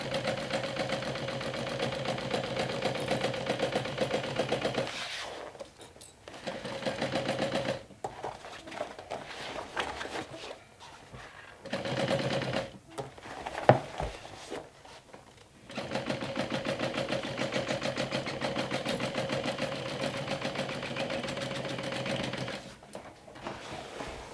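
A sewing machine runs in long steady bursts while stitching a backpack seam with a half-inch seam allowance, its fast rhythmic whir pausing briefly between runs, close and alone.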